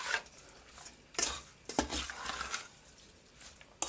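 Curry cow head and tripe being stirred in a pot, a soft scraping and sloshing with a few sharper clinks of the spoon against the pot's side, close up and moderately quiet.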